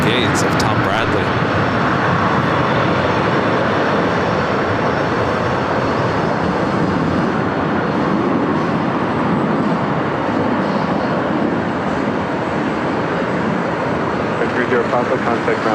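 An Air New Zealand airliner in from Auckland taxis at LAX toward the Tom Bradley northeast gates, a steady broad engine roar holding level throughout with speech-like radio chatter faintly mixed in.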